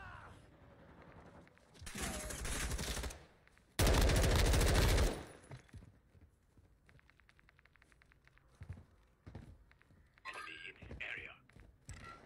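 Video game gunfire comes in two loud, dense bursts of rapid automatic shots, followed by scattered lighter shots and clicks, with a player talking quietly in between.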